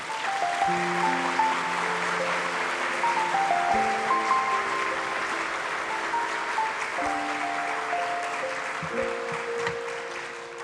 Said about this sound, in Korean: 박수로 환영하면서 우리 교수님 모시도록 하겠습니다